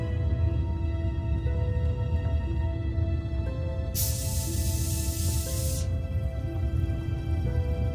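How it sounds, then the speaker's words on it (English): Mints dropped into a cola bottle in the video game Broken Sword 5: The Serpent's Curse, a bright fizzing hiss that bursts out for about two seconds over a steady low game soundtrack. "I dropped the mints into the cola and quickly tightened the cap again."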